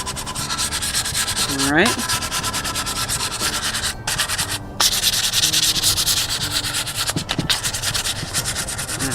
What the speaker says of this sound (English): So I'm just gonna sand this down a little bit to give it a good palette